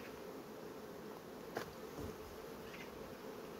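Honey bees buzzing over a brood frame while a failed nucleus colony is being rebuilt, a steady faint hum with a couple of light knocks, no talk.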